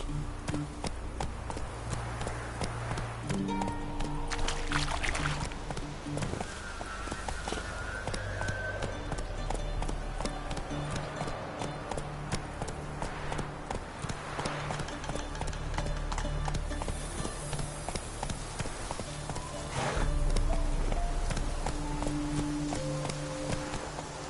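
Roach the horse gallops in The Witcher 3, a steady rapid clip-clop of hooves running close and loud beneath game music and ambient effects, with a brief voice calling out over it.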